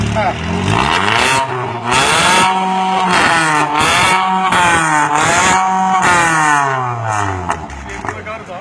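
A car engine revved hard again and again, loud and close, each roar climbing and falling in pitch in a steady run of repeated blips that holds throughout.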